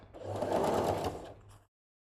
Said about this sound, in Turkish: Önce buradan dikiyorum.